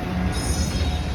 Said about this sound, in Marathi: फाटक आहे. मालगाडी जाते, इथं थांबलोय साईडला.